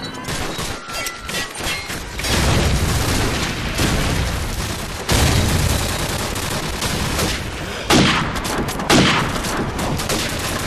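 Explosions and heavy gunfire from an airstrike in a military shooter video game, a loud, dense barrage of booms and rapid shots running continuously, with big blasts standing out near the middle and end.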